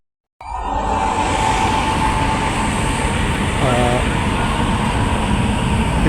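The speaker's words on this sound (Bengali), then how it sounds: "লাইনের একটা ইঞ্জিন যাচ্ছে, শুধু ইঞ্জিনটা।" A lone railway locomotive runs along a rail line leading to the Padma Bridge, a steady loud rumble with a droning hum that holds throughout, heard from some distance.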